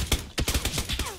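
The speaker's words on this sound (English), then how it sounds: "Where are you getting shot from?" Gunfire in PUBG Battlegrounds: a rapid volley of loud, sharp shots in quick succession, each crack closely followed by the next, with no voices over it.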